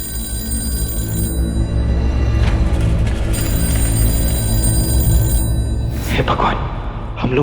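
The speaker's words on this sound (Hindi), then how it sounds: "पहले फोन उठा लेता हूँ" A telephone bell rings steadily in a Hindi television drama scene, loud and continuous over background music, with a brief voice near the end.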